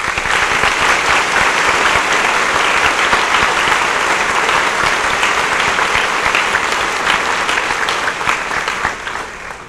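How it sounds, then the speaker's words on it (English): A large audience at a Triton High School graduation ceremony applauds its teachers, with steady, dense clapping that carries on loudly for the whole stretch and fades slightly toward the end. "We now ask our fellow graduates and all of our guests to join us in applauding these professionals, our teachers"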